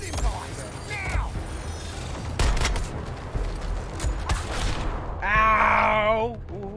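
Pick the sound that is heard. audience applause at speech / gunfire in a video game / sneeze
gunfire in a video game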